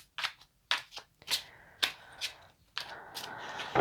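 Cards being shuffled in quick riffling bursts, about eight separate crisp ruffles with short pauses between, close up and without talk.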